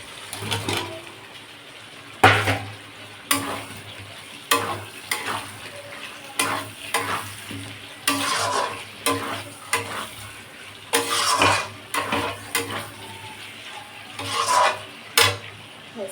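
Potatoes are sautéed in spiced oil for aloo dum, with a soft continuous sizzle under rhythmic metal spatula strokes that scrape and knock against the pan about once a second, no talking.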